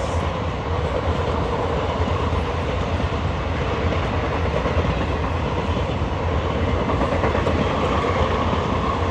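The Udaipur City–Bikaner Express, hauled by a WAP-5 locomotive, passes on a crossing with a loud, continuous rumble and rapid wheel clatter that stays steady and near throughout, with no voices.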